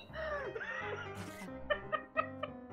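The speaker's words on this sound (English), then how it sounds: "the horse literally just killed me" A horse neighing in a video game, a drawn-out whinny followed by a run of short snorting, chuckle-like bursts, close and clear over quiet game background.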